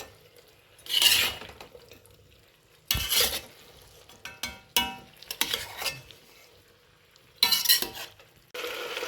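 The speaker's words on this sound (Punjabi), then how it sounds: "ਹੁਣ ਆਪਾਂ ਇਹਦੇ ਵਿੱਚ ਗੋਭੀ ਪਾਤੀ ਹੈ ਤੇ ਗੋਭੀ ਨੂੰ ਆਪਾਂ ਚੰਗੀ ਤਰ੍ਹਾਂ ਹਿਲਾਵਾਂਗੇ ਜੀ" Cauliflower and potatoes stirred in a frying pan for Punjabi aloo gobhi, with a spoon scraping and clinking against the pan in short bursts over a faint sizzle, no talk.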